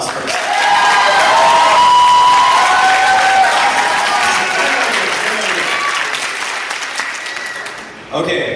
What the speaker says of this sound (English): give them all a round of applause for that